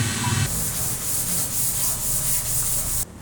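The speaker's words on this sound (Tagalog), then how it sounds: "lihain natin ang pino. 400 itong gagamitin natin mga kasanay." Fine 400-grit sandpaper rubs over a wooden surface coated in sanding sealer, giving a close, continuous scratchy hiss in quick back-and-forth strokes that stops abruptly at the end.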